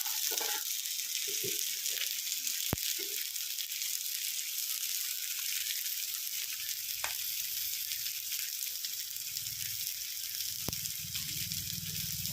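Ola fish frying in hot oil gives a steady, continuous sizzle for the whole stretch, with a few sharp crackles and pops breaking through and no speech.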